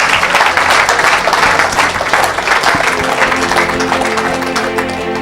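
A church congregation applauding for Jesus, with dense, steady, loud clapping that continues without a break and has crowd murmur underneath.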